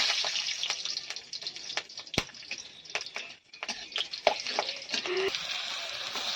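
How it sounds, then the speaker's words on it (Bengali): Green chillies fry in hot mustard oil in a wok, making a quiet, steady crackling sizzle broken by sharp, irregular pops and spits. The sound is close and fairly soft, with no talking. "কড়াইতে দিয়ে দিচ্ছি কাঁচা লঙ্কা"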